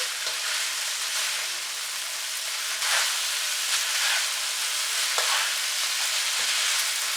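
Spaghetti and chicken for carbonara sauté in a pan with a constant bright sizzle, broken every second or so by short scraping stirs. No one speaks over the close, continuous hiss.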